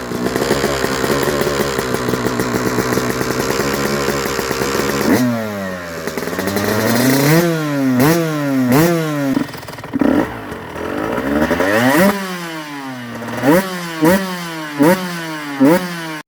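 A brand new Yamaha YZ250 two-stroke dirt bike engine, loud and close, holds a steady high buzz before being revved in a string of sharp rising and falling blips, with bursts of throttle separated by brief drops to idle.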